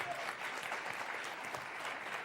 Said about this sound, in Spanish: Dale un fuerte aplauso a